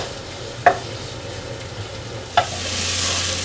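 Onion sautéing in a pan until translucent, with a low steady sizzle, two sharp utensil taps against the pan, and the frying hiss swelling slightly toward the end.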